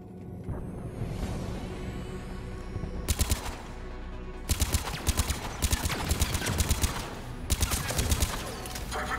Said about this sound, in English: you keep trying to shoot me there, Nemesis